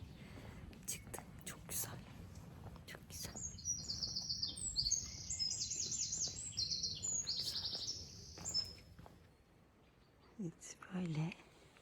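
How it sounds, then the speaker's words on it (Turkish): Bright, high bird song chirps and trills through the middle, over a soft rustling background at Matka Canyon, North Macedonia, with a quiet voice murmuring near the end. "kuş sesi duyuyorsunuzdur belki."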